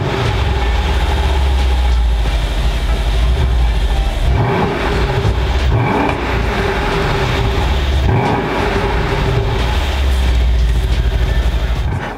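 A Mercedes C217 S63 AMG coupe with exhaust flaps gives a loud, continuous deep exhaust drone that swells and settles as it revs, heard for about twelve seconds without talking.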